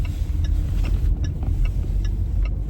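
A car pulls slowly into a work car park on a weekday morning, its engine a steady low rumble close by, with faint intermittent clicks over the top and no talking.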